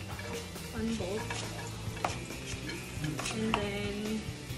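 Garlic fries in a pan for a spicy dish, a steady sizzle with intermittent stirring scrapes and soft utensil clinks close by, no talking.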